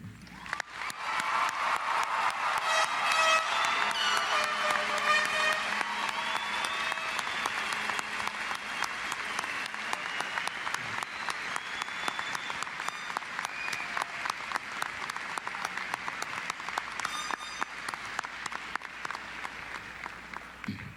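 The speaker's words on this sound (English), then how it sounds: "Please recognize Natalie for earning her diploma with the loudest and proudest Eastmont High School round of applause you can do." A high school graduation crowd claps for a student receiving her diploma, a dense, steady wash of applause that stays full and loud for about twenty seconds with faint cheering mixed in.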